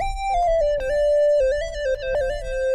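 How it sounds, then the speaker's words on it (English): Subtle synth lead built on a triangle wave with reverb and delay, playing a slow stepwise melody of sustained notes with soft echoing tails, clear and alone in an R&B beat. "Really super subtle lead"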